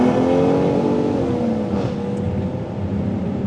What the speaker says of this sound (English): I've got it in sport mode, I've got the noisy exhaust on